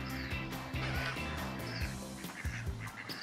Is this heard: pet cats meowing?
no